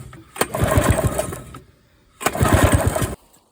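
An early Polaris ATV engine being cranked by its starter during a spark check, in two rough churning bursts of about a second each separated by a pause, close and fairly loud without catching.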